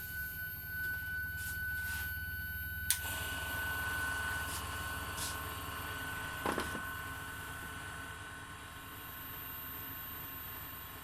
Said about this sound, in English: I'll just go over and turn on the fore pump